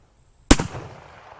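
A single sharp crack from a 30-06 rifle fired at an outdoor range, loud and abrupt after near silence, followed by a brief decaying echo.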